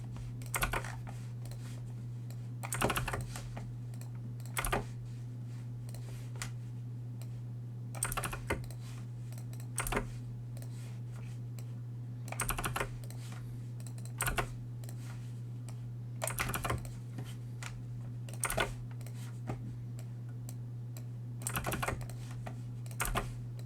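Typing on a computer keyboard, heard as short bursts of quick, fairly faint key clicks separated by pauses over a steady low electrical hum, with no talking.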